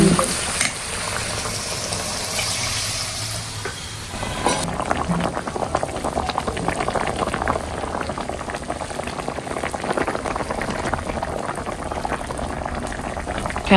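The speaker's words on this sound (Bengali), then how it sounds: "এখানে হচ্ছে পাবদা মাছ ভুনা হচ্ছে না, কষানো হয়ে গেছে।" Pabda fish curry cooking in a pan, bubbling and sizzling loudly and steadily with occasional stirring, building after a quieter first few seconds, with no talking.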